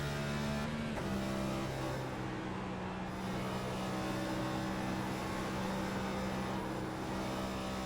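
Race car engine in a sim racing cup event at Indy, heard from onboard, holding a steady drone with stepped pitch drops near the start as it downshifts, loud and continuous.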